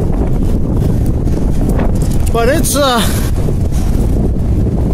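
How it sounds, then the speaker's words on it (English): Extreme wind roars and buffets the microphone in a steady, loud broadband rush, with a voice speaking briefly partway through. "it's really windy right now"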